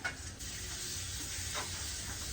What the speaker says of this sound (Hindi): ये हमारा मोस्ट फेवरेट तड़का है।